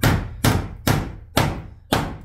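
A hammer drives a protruding nail back into wood, five sharp, close blows landing at a steady, quick pace with no talking.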